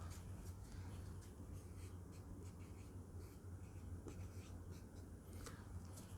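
Faint, scratchy strokes of writing on a board during a lesson, coming in short, uneven bursts over a low hum.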